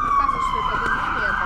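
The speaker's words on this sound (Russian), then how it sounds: "Дублин нас не колоколами встречает, а кареты скорой помощи." An ambulance siren passing on a Dublin street, a loud sustained wailing tone sliding slowly in pitch over street noise.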